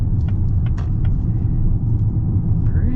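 A 2024 Lincoln Nautilus Hybrid with a CVT cruises steadily, its low road and engine rumble constant and smooth throughout, with faint higher noises flickering above the hum and no talking.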